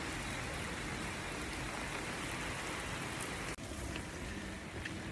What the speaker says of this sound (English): it's absolutely pouring.